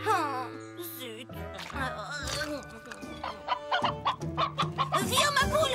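A cartoon hen clucks in quick, close bursts with a rising cackle, mixed with bright music and a voice calling to it.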